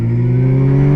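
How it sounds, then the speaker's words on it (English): A Suzuki GSX-R 750 sport motorcycle cruises down a street, its engine holding a loud, steady drone close by with no speech over it. "Cruising down the street in my Gsxr."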